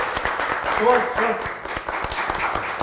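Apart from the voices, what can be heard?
applause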